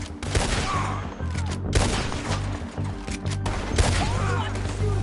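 A heavy Red Dead Redemption 2 gunfight, with loud, dense volleys of rifle and pistol shots cracking in quick clusters throughout, some echoing, under faint voices.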